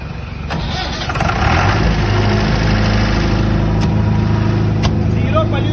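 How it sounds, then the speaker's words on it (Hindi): A soundproof 40 kVA generator set starts and settles into a steady, loud low engine drone close by, with people talking over the running machine. "It's a sound proof generator set."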